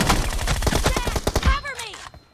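Rapid automatic gunfire in a video game, dense overlapping bursts that fill the scene before tapering off, with a character's shouted voice near the end.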